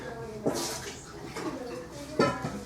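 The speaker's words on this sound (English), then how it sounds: "Throw this excess water away." Excess water is poured away from a pot during home cooking of squid tempura and fries, giving a few short splashing gushes near the mic, with a voice talking over them.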